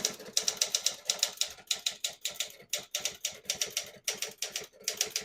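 Crisp, rapid keystrokes on a 1965 Hermes 9 vintage desktop typewriter typing a sentence, each key strike a sharp metallic clack in an uneven steady rhythm, close and alone with no voices.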